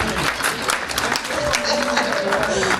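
An audience applauds the Fourmis Rouges at a campaign rally, a short burst of crowd clapping mixed with voices.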